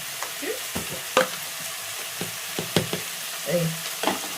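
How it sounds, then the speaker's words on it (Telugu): Bommidi fish curry is stirred in a pan, with repeated scraping strokes of the spoon at an irregular pace over a soft, continuous sizzle. "ఇక మంచిగా కలిపేసుకుందాం ఇట్లా"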